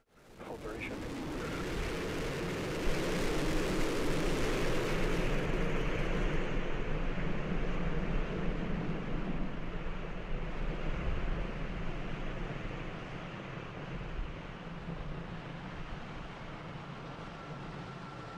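Engine roar from a static fire of SpaceX Starship Super Heavy Booster 9 at Starbase: a sudden onset builds into a sustained, thunderous, crackling rumble that holds for many seconds and eases slightly toward the end, with no speech.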